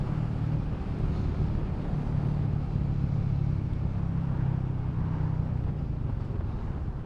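A Royal Enfield Meteor 350 motorcycle runs steadily as it shifts down through the gears, with a continuous low engine drone and heavy wind rush across the microphone and no voices.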